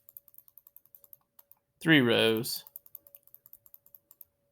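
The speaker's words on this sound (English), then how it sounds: "I'm just going to have to do a lot of clicking here" Rapid, evenly spaced computer mouse clicks, a long run of sharp light taps before and after a short burst of speech, close and crisp in a quiet room.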